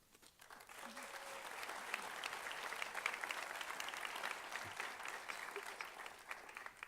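Steady applause from a sizable audience at a university commencement recognition ceremony, many hands clapping continuously at a moderate distance for several seconds.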